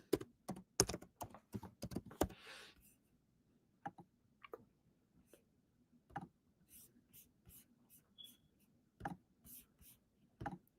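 Typing on a computer keyboard while resetting a password, heard as bursts of close keystrokes and clicks that start dense, then thin out into scattered taps over quiet room tone.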